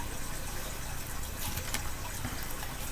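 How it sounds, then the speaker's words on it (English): Water from a bottle, a steady broadband pouring and sloshing that runs evenly at close range throughout, with no voices. "As we listen to the water and I take a sip of water"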